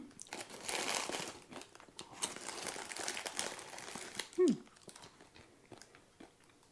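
Crispy fried crickets seasoned with salt, garlic and lime are bitten and chewed up close, with a run of dense crunching that fades into softer, sparser chewing and a brief vocal sound partway through.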